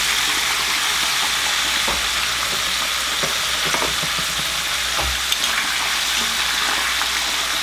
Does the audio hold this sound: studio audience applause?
no